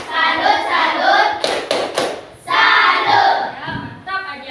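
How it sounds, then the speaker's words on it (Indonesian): Children in a classroom perform a rhythmic clap chant, bursts of quick hand claps between their chanted voices, close and fairly loud. "Kita beri tepuk salut untuk Ajam dulu karena datang paling awal. Tepuk salut."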